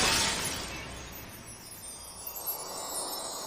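A crystal star ornament in the anime Toradora falls and shatters, a sharp glassy crash at the start that rings out and fades into a soft tinkling tail of scattering shards.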